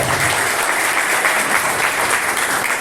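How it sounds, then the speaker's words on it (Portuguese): A church congregation on its feet applauds during a worship service, steady dense clapping from many hands filling the room without a break and with no voices standing out. "Aplauda o nome do Senhor, se coloque de pé."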